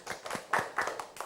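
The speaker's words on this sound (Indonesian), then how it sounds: "Iya, tepuk tangan dulu." Schoolchildren at an elementary school clap their hands in a short run of about six separate, fairly quiet claps with uneven spacing, sounding close and without talk.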